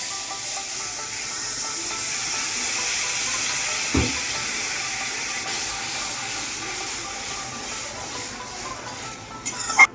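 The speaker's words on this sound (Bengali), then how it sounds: "এবার এর মধ্যে একটু জল দিয়ে দেব।" Water poured into a poppy seed curry with brinjal in a hot pan sets off a steady hissing sizzle that stays level, with one brief thump midway and a few clatters at the end.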